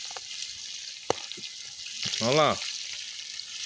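Fish frying over an outdoor campfire gives a continuous soft sizzling hiss, broken by a few sharp clicks, while a person speaks briefly.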